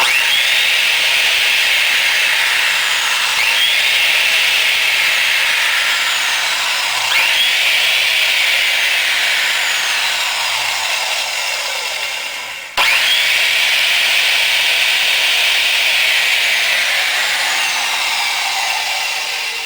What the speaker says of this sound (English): 6-inch heavy-duty adjustable saw